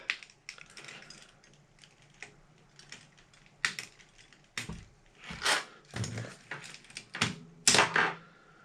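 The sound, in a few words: prying a key off an Amstrad PPC640 keyboard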